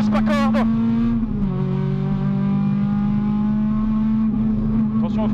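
Rally car launching at full throttle from the start of a special stage, the engine roaring loud and close with a rising then sustained note inside the cabin, a co-driver's voice calling briefly over it at the beginning and end.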